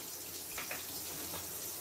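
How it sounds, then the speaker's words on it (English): Plain tap water running from a kitchen faucet while preparing dinner roll dough, a steady hissing stream, fairly faint and unbroken throughout with no voices. "And I just use plain tap water. It doesn't matter. So I'm going to let that run a little bit."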